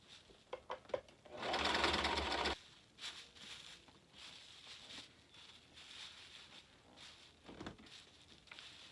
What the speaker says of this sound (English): So I'm just going to sew this.